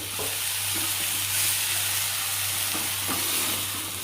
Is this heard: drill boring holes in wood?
no